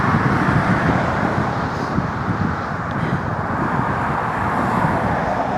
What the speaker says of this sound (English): There's a massive truck up there with some stuff on it.